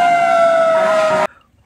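A toy fire truck's electronic siren plays a loud, steady synthetic wail with a slightly falling pitch for just over a second, then cuts off abruptly.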